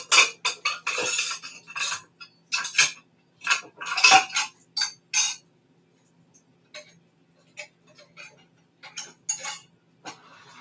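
A measuring cup is put away among dishes in a home kitchen, giving a run of close, sharp clinks and clatters of cutlery and crockery, busy at first and then sparser with pauses.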